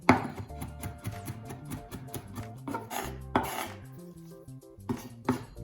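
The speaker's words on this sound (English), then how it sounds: "quickly just go through and through and through with this chopping method" A kitchen knife chops food on a board in quick, rhythmic rocking strokes, producing a rapid series of close taps and scrapes with a few louder knocks, alone without talking.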